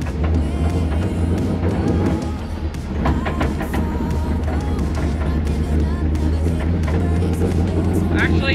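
A Nissan 350Z street car pulls away under steady acceleration, its engine droning loud and continuous throughout with a rising note around the middle, close and sustained with no speech.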